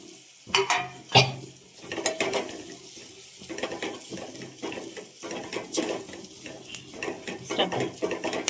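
Chillies frying and being stirred in a pan for a pepper-cumin rasam: irregular scraping and clinking of a spoon against metal over a low sizzle, close and fairly steady throughout, with no talking.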